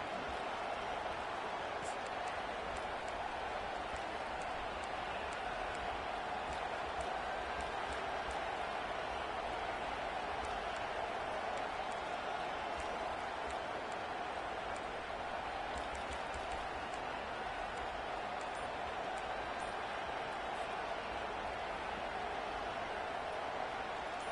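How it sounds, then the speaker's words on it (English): A college football stadium crowd roars during a tense fourth-down play against Tennessee, a dense, steady wall of cheering and noise sustained throughout without letup. "This crowd busting the decibel meter and trying to will a 4th down stop"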